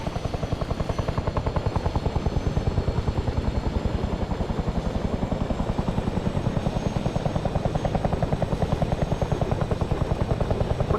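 Helicopter engine and rotor noise from an aircraft in ARMA 3, a steady loud thrumming whine with rapid blade chop running continuously throughout, no voices.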